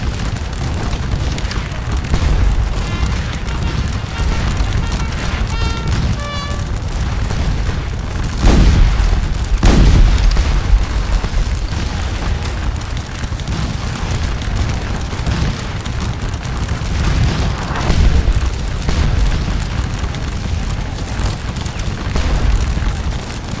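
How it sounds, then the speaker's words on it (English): A Napoleonic-era firefight from the game Scourge of War: Waterloo, with artillery and musket volleys making a continuous rumble punctuated by heavy booms, a few of them louder and closer, and no talking over it. "And the firefight just outside continues, as my troops fire in advance towards the skirmishers."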